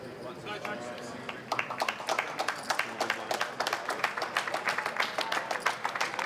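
Audience applause in a poker tournament hall, a steady patter of claps building from about one and a half seconds and continuing to the end, moderately distant, with a commentator's voice over it.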